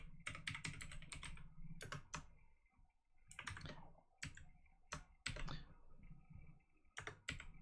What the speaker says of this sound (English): So you can type your text in